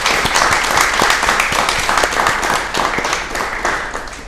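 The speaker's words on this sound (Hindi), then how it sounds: "वो एक बार जोरदार तालियों से अब अभिनंदन कीजिए खुद का" Loud, dense applause from the audience, guests and students at a live event, sustained clapping from a full crowd that fades slightly toward the end, with no voices on top.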